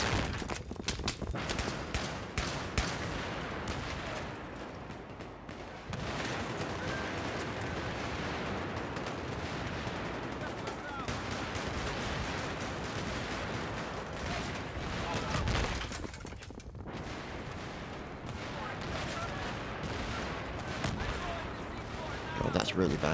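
Battlefield 3 Metro map firefight, with players using the MP7 high-cyclic-rate submachine gun. A dense, continuous wall of rapid automatic fire and echoing shots runs throughout, loud and reverberant, with game voices mixed in beneath.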